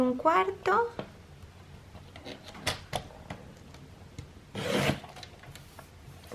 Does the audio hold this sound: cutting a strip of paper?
yes